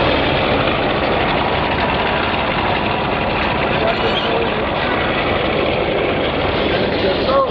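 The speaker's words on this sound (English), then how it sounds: "Once you have the pin pulled, let the winch out. It lets this whole frame area roll back." Winch paying out cable as a motorcycle lift frame on a semi truck rolls back, a continuous rough mechanical drone over a low engine-like rumble, steady and close throughout.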